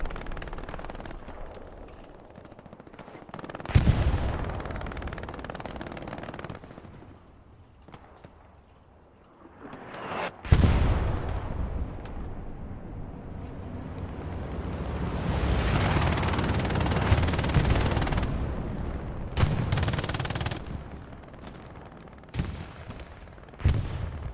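Hell Let Loose gunfire on a battlefield, scattered rifle and machine gun bursts with sharp loud cracks, some near and some distant, plus a sustained rumbling stretch, with little talk.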